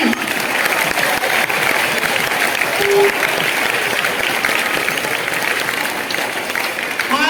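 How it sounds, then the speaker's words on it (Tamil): Sustained applause from a large crowd of students at a school Pongal celebration, dense and continuous, with faint voices mixed in throughout. "மாணவர்களுக்கு பெரிய கைத்தட்டல கொடுக்கலாமே"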